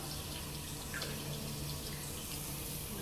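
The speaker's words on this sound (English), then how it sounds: "Just washing her hands." Tap water runs steadily at low level while hands are washed at a sink, a soft continuous splashing wash with no talk.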